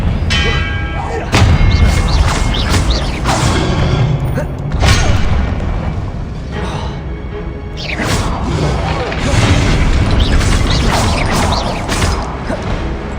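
Repeated Confringo fire spells burst in Hogwarts Legacy combat, a run of booming, thudding blasts with mechanical clatter over a continuous dense game soundscape, loud and close throughout, with a voice calling out spell names.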